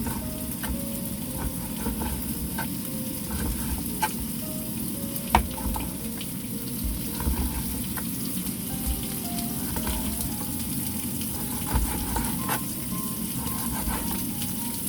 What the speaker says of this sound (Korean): 지글지글 소리가 나고 또 양파가